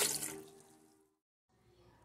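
A cup of water pours into a blender already holding cut orange and banana, a brief splashing gush that tapers off within a second, close by, followed by a faint clink.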